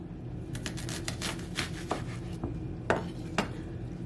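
Knife cutting an onion on a board, a series of sharp chopping taps spaced irregularly, close and moderately loud over a steady background hum.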